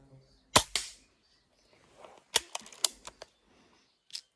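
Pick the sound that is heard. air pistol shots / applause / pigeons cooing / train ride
air pistol shots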